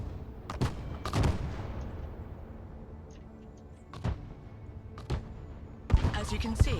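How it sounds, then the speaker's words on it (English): Mortar fire in the Broken Arrow war game: several sharp, booming launches come in irregular bursts, some close together, over a low battlefield rumble, with a voice speaking between shots. "Mortar ready to fire."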